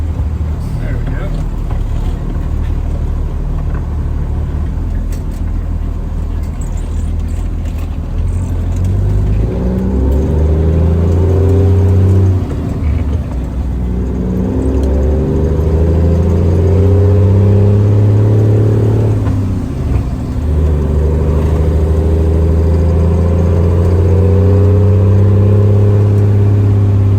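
Cabover truck pulling away after being shifted into gear, its engine loud and close, rising and falling in pitch through repeated swells of acceleration across the stretch, with no talk.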